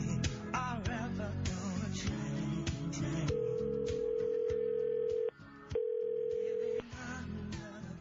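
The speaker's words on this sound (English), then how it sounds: "Mel, we're going to call back just to make sure that's you" A steady telephone dial tone sounds while a call is placed back, holding for about two seconds, cutting briefly and resuming, layered over a dense, busy background.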